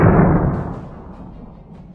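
A single rifle gunshot: a loud, close boom followed by a decaying rumbling tail that fades over about two seconds.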